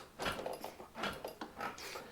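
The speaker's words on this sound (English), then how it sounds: "that noise is just the centre stand" The centre stand of a Royal Alloy VCR scooter fitted with a lowering kit, knocking and creaking faintly as the rider bounces on the seat, in a few soft, irregular clunks close by.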